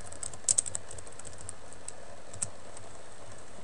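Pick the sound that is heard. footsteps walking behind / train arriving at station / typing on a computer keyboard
typing on a computer keyboard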